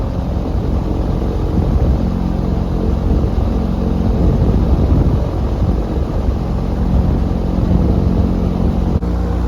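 Airboat engine roaring while the boat is under way, a loud, steady, broadband drone that holds for the whole stretch without any talking.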